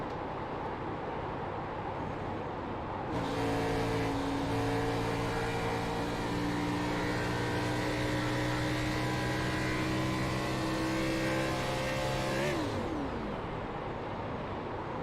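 Onboard engine of Alex Huffman's number 30 race car lapping Texas, a loud sustained engine drone whose pitch climbs steadily for several seconds while saving fuel, then drops sharply as the car lifts off near the end.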